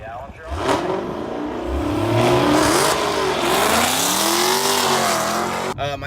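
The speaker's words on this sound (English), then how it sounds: "The last time I did launch really hard, I'll insert a clip here" A Dodge Charger and a Challenger Hellcat launch hard side by side at a drag race, engines roaring loud and rising steadily for several seconds before a sharp cutoff, with a voice over the noise.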